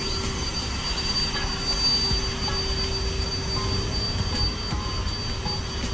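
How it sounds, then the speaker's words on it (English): Leaf blowers whining steadily outdoors on a grassy monument grounds at Parliament Hill, a continuous droning roar with a faint high tone, fairly loud and unbroken, with no speech. "There's some guys with blowers in here, so that's what the noise is."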